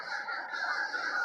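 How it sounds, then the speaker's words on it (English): A large flock of birds makes a dense, continuous chorus of overlapping squawks and honking calls, steady and moderately loud, with no one speaking. "Millions of bird."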